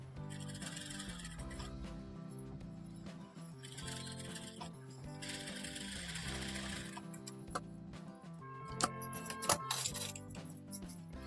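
A sewing machine stitches a blouse in steady mechanical bursts, running and pausing several times, with a few light metallic clinks near the end.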